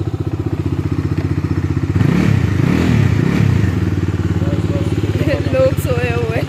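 A Bajaj Dominar motorcycle engine idles and putters steadily up close at night, with a rhythmic thumping pulse and brief rises in revs.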